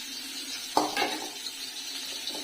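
Potato and green banana pieces frying in a little leftover fish-frying oil with tempering spices, a steady soft sizzle with a couple of brief clatters as they are added and stirred.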